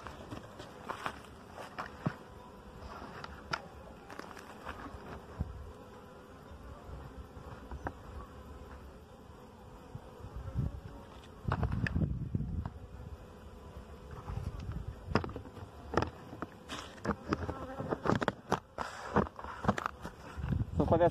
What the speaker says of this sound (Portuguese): Essa abelha é boa de mel.